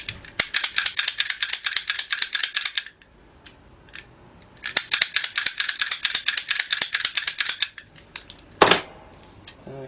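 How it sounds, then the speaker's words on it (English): An electric lock pick gun works on a lock in two long bursts of rapid, close mechanical rattling and snapping, followed by a few scattered clicks and a sharp knock; no one speaks. "Electric pick gun will work exactly the same way,"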